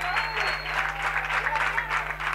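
Spectators at a senior football match between Bujalance and Ciudad Jardín clap as the injured player Raúl is substituted, a brief burst of crowd applause with an outdoor whistle and hum beneath.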